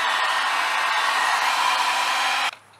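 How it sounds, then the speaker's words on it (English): A heat gun blowing steadily while shrinking heat shrink tubing over soldered wires on a Z32, a constant loud airy whoosh that cuts off abruptly near the end. "Once I soldered all three, I slipped the heat shrink over and used the heat gun on them."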